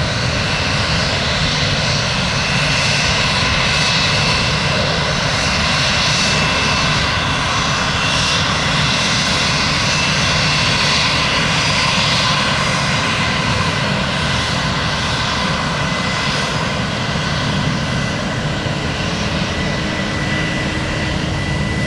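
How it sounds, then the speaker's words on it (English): Loud, continuous broadband roar of Airbus A320 jet engines during a takeoff run, holding steady throughout with no talking. "A320 with those skinny engines."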